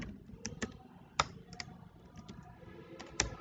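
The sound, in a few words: typing on a computer keyboard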